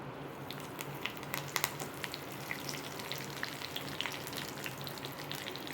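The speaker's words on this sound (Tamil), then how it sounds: "அதோட 2 காஞ்ச மிளகாய். அது நல்லா பொரியட்டும்." Cumin and two dried red chillies fry in hot oil for a tempering, a soft, steady sizzle with faint crackles and a few small pops, quiet and close, no voices.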